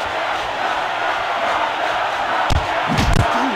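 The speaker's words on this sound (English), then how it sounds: "you can hear the crowd respond as a haymaker lands to the body" A steady arena crowd roar from the Fight Night Round 3 boxing video game rises slightly as a heavy haymaker lands to the body, with a few thudding impacts near the end.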